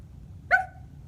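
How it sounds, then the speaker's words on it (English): A dog lets out one short, sharp bark that is brief and fairly faint against a quiet, low background hum. "the first sound that my dog likes to make is short"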